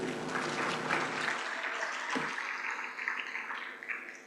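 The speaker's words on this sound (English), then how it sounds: "Can we clap and begin, everybody?" An audience at the opening of a manufacturing conference and awards event claps in a full, steady round that gradually thins and softens toward the end.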